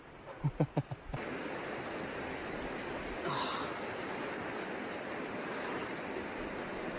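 Continuous rushing water noise fills the clip after a few brief soft thumps, steady and broadband, as cold Fane Creek in the Ozark Highlands flows nearby.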